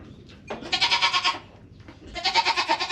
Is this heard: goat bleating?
yes